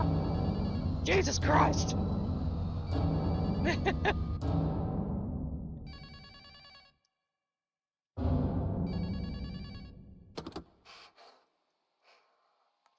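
A telephone rings in repeated bursts of electronic trills during a horror game, sounding between gasps, heavy breathing and an exclamation from a man, then fading into silence.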